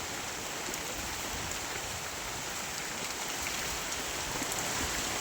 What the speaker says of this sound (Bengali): আর সুন্দর বৃষ্টি হচ্ছে আজকে